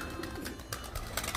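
Soft, low cooing from an Arabian crested (arkatepe) play pigeon, murmured in short repeated phrases against a faint outdoor background.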